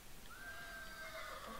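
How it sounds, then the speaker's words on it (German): A horse neighs in the Minecraft Hexxit game, a quiet, drawn-out whinny with a wavering pitch, heard alone against faint background noise. "Ich höre ein Pferd."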